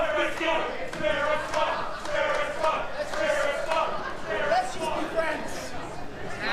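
Wrestling crowd at a WSW match chanting for Spirit Squad: a loud, rhythmic, many-voiced chant that repeats steadily over arena noise.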